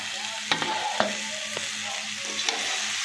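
Sliced onions, green chillies and tomato sizzling steadily in a pan, with a few sharp spatula knocks and scrapes as they are stirred, close up and without any voices.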